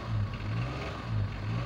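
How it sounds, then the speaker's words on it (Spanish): A 2001 Honda Civic LX engine is revved at close range, its low hum swelling twice in quick succession before settling back, fairly faint overall. "Otra vez, dale un acelerón y suelta el pedal."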